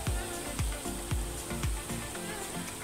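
Turmeric and red chili powder sizzle in hot oil for rajma masala, a steady hiss broken by regular low thumps of stirring roughly every half second, close and fairly loud.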